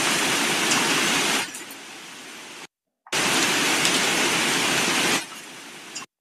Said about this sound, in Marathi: एवढ्या प्रमाणात हा पाऊस होतोय